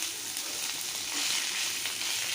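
Kakarakaya, sliced bitter gourd, fries in a pan with a constant close crackling sizzle and soft hiss, steady throughout with no speech.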